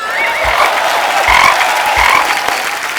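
Frog croaking sound effect on a comedy talk show stage, with several rhythmic, raspy croaks repeating loudly over a continuous bed of crowd noise and applause.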